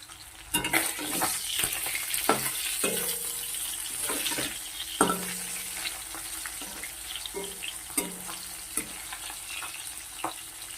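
Small local tangra fish fry in a pan, a steady sizzle punctuated by repeated clinks and scrapes of a utensil stirring and turning them, close and moderately loud with no talk.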